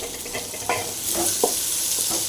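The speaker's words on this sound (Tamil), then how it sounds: "போட்டு நல்லா வெங்காயம் ஃப்ரை ஆகுதுங்க." Chopped onions fry with garlic in a pan for a banana stem stir-fry, giving a steady close sizzle broken by the scrape and clatter of stirring.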